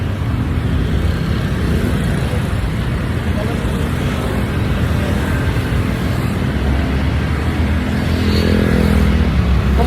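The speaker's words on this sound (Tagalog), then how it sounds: "Traffic." Slow, congested road traffic heard up close on a hot street, a dense continuous roar of cars and motorcycles that swells slightly toward the end.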